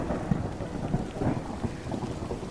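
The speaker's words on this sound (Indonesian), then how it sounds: "masuk yuk, hujan." Steady rain falls with low, rolling thunder rumbling underneath at a night-time house, a continuous wash of sound with no voices, fairly close and moderately loud throughout.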